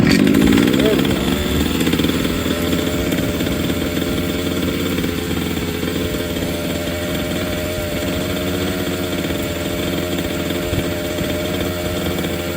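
A 30cc Walbro-carbureted 1/5 scale RC gas engine runs loud and steady at close range, a raspy two-stroke drone with a brief rev at the start before settling to a constant high idle.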